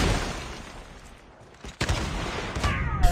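Video game gunfire from the Rytec sniper rifle, a few heavy booming shots with noisy blasts and rumble, fairly loud amid game background sound.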